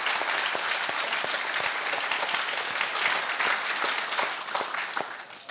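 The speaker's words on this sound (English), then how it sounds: "let's just give another round of applause for all of them" Audience applause at a hackathon opening ceremony, a steady burst of many hands clapping in a hall for several seconds, dense and fairly loud with no talking over it.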